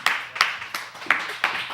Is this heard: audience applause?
yes